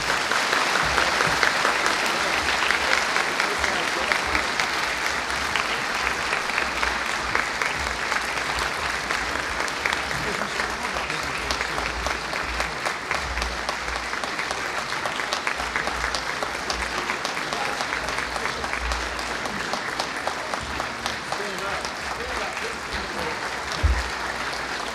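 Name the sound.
school assembly audience applause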